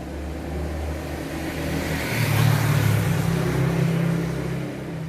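Road traffic streams past in steady passes, a car accelerating nearby as the engine hum swells in the middle and then eases off, with no voices.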